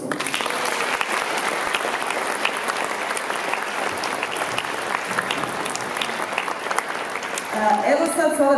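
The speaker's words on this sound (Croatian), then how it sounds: "I molim vas da ih podržite u tome jednim velikim pljeskom." A school audience at an end-of-year ceremony at a primary school in Bjelovar breaks into loud, sustained applause, a dense clatter of many hands lasting several seconds, with a voice starting to speak over the closing moments.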